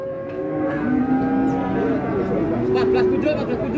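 Limousin cattle at a cattle market give several drawn-out moos, close and loud, with people talking in the background throughout.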